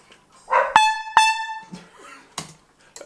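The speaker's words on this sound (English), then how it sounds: "A perfectly timed dog bark from Dillon" A dog barks sharply once or twice in a music studio, the barks cutting across a sustained, bright trumpet tone at moderate loudness.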